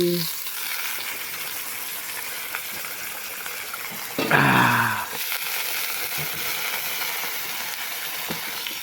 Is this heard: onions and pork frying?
yes